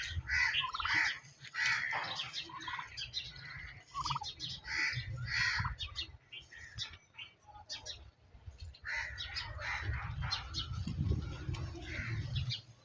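Domestic turkeys and other farm birds calling over grass, with repeated gobbling and squawking calls close by, overlapping and continuous, and someone talking at times among them.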